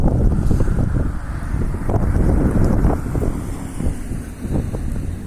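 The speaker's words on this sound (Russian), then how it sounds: "Очень сильный ветер." Very strong wind blows outdoors on a freezing day, roaring and buffeting the microphone in continuous loud gusts with a deep rumble and no talking.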